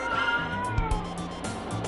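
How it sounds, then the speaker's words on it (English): A house cat meows and cries at home in several close, drawn-out calls, with game music running underneath. "I have a crying cat at home."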